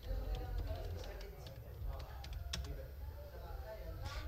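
A website address being typed on a computer keyboard, a run of quick light key clicks over a low rumbling background hum with faint speech underneath.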